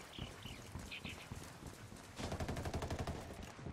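Unsuppressed gunfire in Ghost Recon Wildlands, a fast steady string of loud close shots following scattered quieter sounds.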